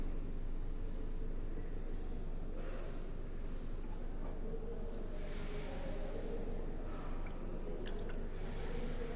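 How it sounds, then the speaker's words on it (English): Solution poured in short aliquots into a reaction mixture during a green-chemistry synthesis of p-bromoacetanilide with KBr: close, steady wet trickling and soft squishing over a constant broadband hiss, with faint drips and no voices. "So I'm just pouring in short aliquots."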